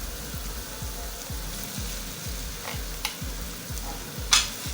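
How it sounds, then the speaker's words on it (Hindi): Beef mince is stirred into a frying masala for karela keema, with a regular, rhythmic scrape of the spoon against the pan about twice a second over a soft, continuous sizzle, plus a sharp clink near the end. "बीफ को थोड़ा सा हमने इसमें मिक्स करना है"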